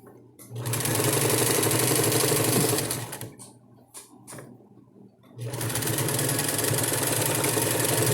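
A sewing machine runs fast and close while finishing the seam on a double-sided diaper cover, pauses with a few ticks and clicks, then resumes a long steady stitching run.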